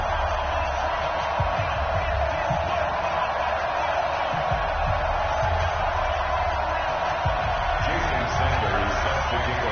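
A stadium crowd in an EA Sports NFL video game hums and roars steadily for a Cincinnati Bengals versus Houston Oilers matchup, with a commentator's voice speaking over the dense, continuous noise.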